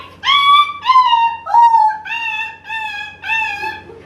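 A child imitates a whimpering puppy being kicked, giving six close, loud, high, whining yelps in a quick uneven series, each cry trailing off in pitch.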